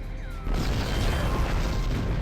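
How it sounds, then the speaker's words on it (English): A large explosion in the space game Star Trek Online, a loud broadband boom that erupts about half a second in and keeps rumbling densely to the end. "That was a glorious explosion!"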